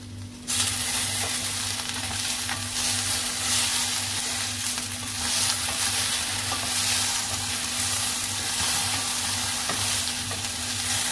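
Okra (bhindi) for masala bhendi stir-frying with raw tomato and onion in a pan, a steady close sizzle broken by scraping stir strokes that runs without a break and holds loud for the whole stretch, with no talk.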